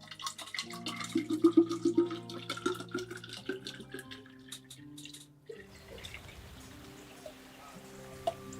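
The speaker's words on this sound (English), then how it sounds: "Fill up my water bottle here" Water runs from a tap into a water bottle, a steady close hiss and splash that begins partway through after a stretch of soft tonal background sound and continues to the end.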